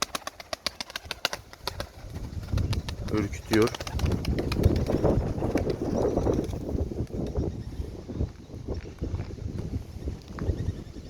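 Doves coo softly nearby in low, repeated calls, while a person speaks briefly over them.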